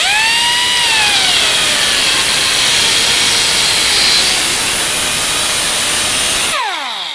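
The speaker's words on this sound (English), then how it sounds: "let's take my Ziz wheel and cut through that." A Zizz cutoff wheel grinds through the drip rail of a 1968 Ford Mustang: loud, close, continuous high whine with pitch sweeps as the wheel bites and slows, cutting off abruptly near the end.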